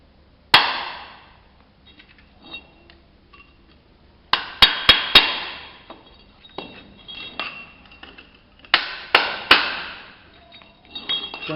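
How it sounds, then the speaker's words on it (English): Gentle hammer taps on a brick being cut, close up: sharp metallic clinks come in small clusters of two or three with quiet gaps between them, some taps lighter than others, and there is no talking. "Gentle taps, keep turning."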